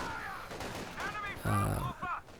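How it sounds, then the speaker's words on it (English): Close-range machine gun fire from a three-man squad in the World War II strategy game Company of Heroes 2, rapid crackling bursts mixed with other battlefield effects and a commentator talking over it. "only the 3 models firing the machine guns at close range"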